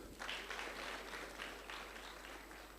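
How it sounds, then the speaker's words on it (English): Conference audience applauding after a presentation at an agriculture conference, steady dense clapping that holds evenly for the whole stretch, moderately loud with no voices over it. "Please, another round of applause."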